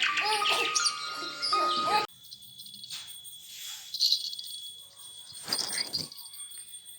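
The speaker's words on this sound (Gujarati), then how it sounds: "અહીંયા મ્યુઝિક વાગી રહ્યું છે ચકલીઓનું અને એ મ્યુઝિક સાંભળે છે" A recording of chirping sparrows plays for a baby in a cradle, a loud burst of bright tweets at first, then quieter scattered chirps and rustles after an abrupt drop in level.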